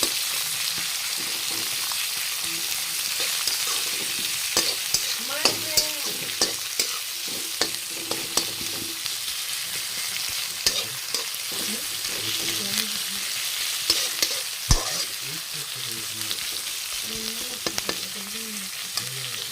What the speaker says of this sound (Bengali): এবার পেঁয়াজটা লাল করে ভাজবো